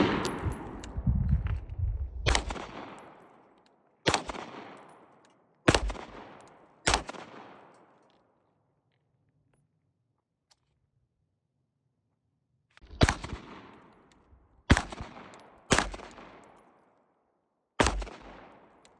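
Shots from a Canik TTI Combat pistol ring out at an outdoor range, sharp loud reports with echoing tails, a quick run of about five, a pause, then five more spaced shots.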